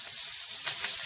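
Shrimp cooking in a pan of sauce, a close, steady sizzle and hiss that holds constant for a moment, with no talk.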